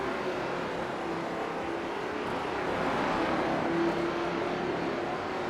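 Stock race cars battling on an oval track in a Carolina Crown Series race, a constant roar of several engines from a distance, steady with a slight swell near the end.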